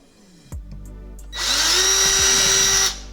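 Power drill boring holes into a fishing kayak hull, an Ascend 133X Tournament, while fitting hatch and rails: a brief thump, then one steady high-pitched whirring run of about a second and a half, close and loud.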